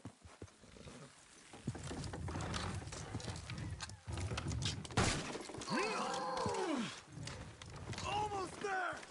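In Red Dead Redemption 2, horses pull a wooden structure down, with hooves clopping, timber cracking and shattering, and whinnies rising at the end. The sounds are loud and busy and come in bursts over several seconds.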